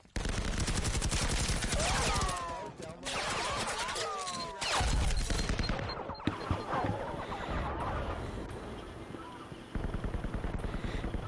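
Rapid bursts of automatic gunfire and explosions from a team-based first-person shooter match, loud and sustained, with dense overlapping shots and a brief lull near the end.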